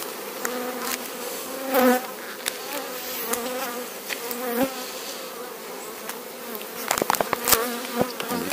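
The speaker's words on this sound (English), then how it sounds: "I'll try to shake the bees off that." Dense, steady buzzing of many honey bees around an opened hive fills the air close by, with occasional louder bursts as individual bees fly past.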